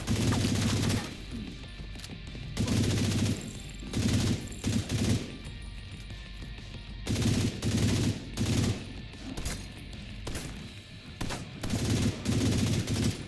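Video game gunfire in The Division 2 comes in repeated heavy bursts of automatic fire, loud and close, with short quieter gaps between volleys.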